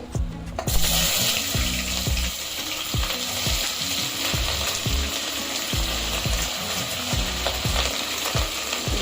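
Cardamom and other whole spices fry in hot oil at the start of a spicy mutton curry, a dense steady sizzle and crackle with rhythmic clicking knocks repeating throughout, close and fairly loud.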